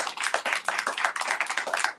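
An open mic audience claps continuously, a dense patter of many hands at close range with no voices over it, steady throughout.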